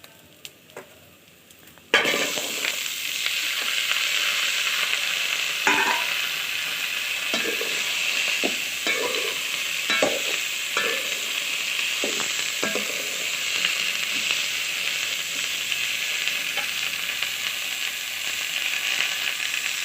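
Broad beans sautéing in a pan, with a steady, close sizzle that starts abruptly after a quiet opening, broken by repeated scraping stirs of a spatula throughout.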